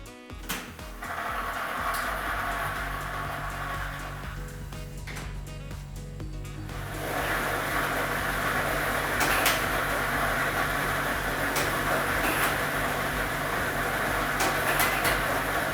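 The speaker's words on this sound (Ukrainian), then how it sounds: "І ми вмикаємо лототрон." A lottery ball drawing machine runs during a televised Ukrainian state lottery draw, a continuous loud whooshing, churning noise that swells partway through and carries on steadily with occasional sharp clicks.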